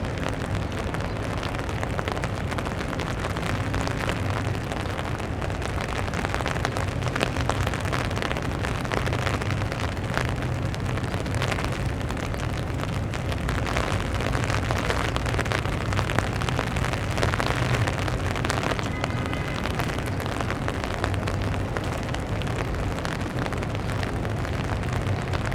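Rain falls on a downtown Toronto street, a steady, even hiss of drops on pavement that holds at constant loudness throughout, with a faint low rumble of city traffic beneath and no talking.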